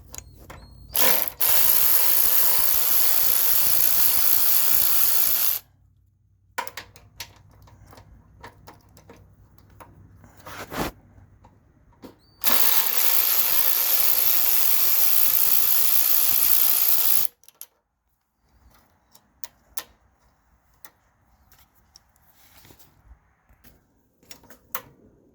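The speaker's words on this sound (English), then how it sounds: "this bolt and then this bolt here are both 5/16, so we're gonna take those off" Two long bursts of rapid ratchet clicking while 5/16 bolts are backed off a car's gas tank, each run lasting several seconds, separated by quieter handling noises and followed by scattered small metallic taps.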